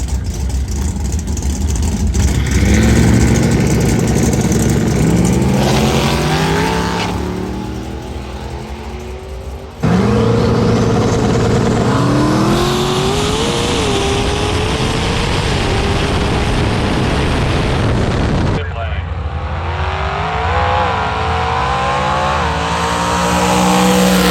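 A drag car launches down a drag strip, its engine roaring loud and close and rising in pitch through successive gear shifts, each marked by a sudden drop before the revs climb again.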